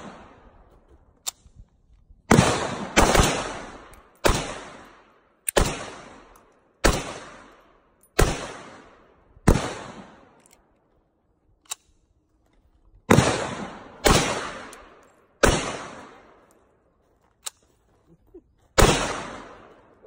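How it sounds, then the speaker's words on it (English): Gunshots at a gun range, about a dozen sharp loud cracks fired singly at irregular intervals, each followed by a short decaying echo, with quiet gaps between. "Let me shoot that motherfucker, man."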